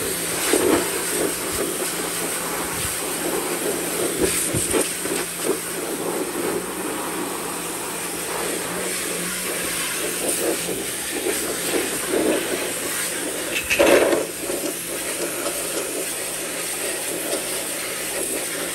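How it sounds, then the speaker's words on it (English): A pressure washer sprays down small car underbody shields near the power steering rack, a steady loud hiss and rush of water that runs without a break, with brief surges in spray noise and no talking. "While I have the pressure washer out,"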